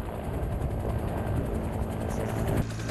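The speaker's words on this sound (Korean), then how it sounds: "조종사들의 일부나 마찬가지인 코브라 헬기." A military AH-1 Cobra attack helicopter, nearing retirement, runs during an army aviation live-fire exercise, giving a loud, continuous rotor and turbine drone that shifts abruptly near the end.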